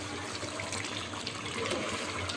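Water poured into a pan of chicken kofta curry, a close, steady rushing flow lasting a couple of seconds with no talk over it.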